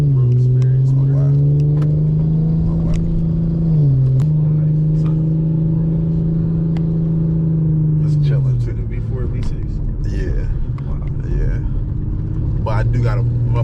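Car engine fitted with a muffler delete holds a loud, steady low drone with a brief dip near four seconds and a drop near eight, close up, while people talk over it.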